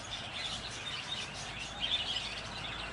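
Birds chirp faintly in a garden, light scattered tweets over a soft hiss with a brief louder burst of calls in the middle.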